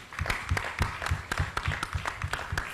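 Indoor audience applause for President Bio, steady dense clapping from a hall crowd at close range, sustained throughout without pause.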